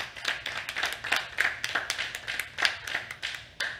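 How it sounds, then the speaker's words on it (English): A handful of people clap for a late-night webshow guest, sparse and uneven close-up claps rather than a full crowd, with no talking. "So give him a round of applause."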